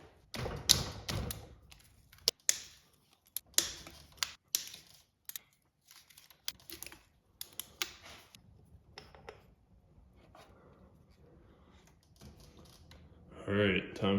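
Tools clack and tap against the head bolts of a blown-up Polaris 400cc two-stroke engine during teardown: scattered sharp metallic clicks and knocks, some close and loud, with quieter stretches between and a short scraping burst near the end.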